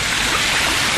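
Floodwater from the overflowing Han River rushes in with a dense, steady roar, loud and close, with no pauses across the moment.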